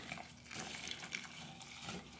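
Three-quarters of a cup of water poured into a bowl of black bean burger mix, a continuous close splashing pour.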